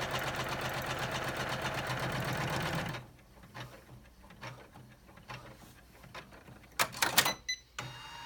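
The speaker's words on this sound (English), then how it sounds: "And this is just going to be a little bit of a stay stitch" An embroidery machine sews a stay stitch on fabric in the hoop for a credit card wallet, a fast, loud, even mechanical stitching rhythm that stops abruptly partway, followed by quieter clicks, rustles and a few sharp clacks.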